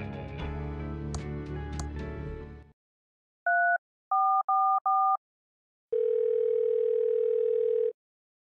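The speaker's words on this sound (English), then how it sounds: "It's a cell phone." In the Thimbleweed Park video game, a cell phone sequence plays: a rich buzzing musical tone, then a few separate electronic keypad beeps, then a steady held dial tone, all clean and synthetic with no voices.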